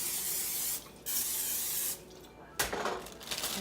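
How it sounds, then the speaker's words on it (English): Olive oil spray hisses onto a cooking pan in short bursts, quiet and close, with one longer spray followed by faint sizzling. "I'm going to use some olive oil spray and just spray this down."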